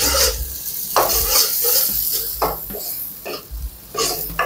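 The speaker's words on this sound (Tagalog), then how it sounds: "Melt lang natin yan. Ilagay na rin natin ang ating garlic. Gisa-gisahin lang konti." Garlic and onion sautéing in melted butter in a pan, a steady sizzle broken by several bursts of utensil scraping and stirring against the pan, close and fairly loud, with no talk.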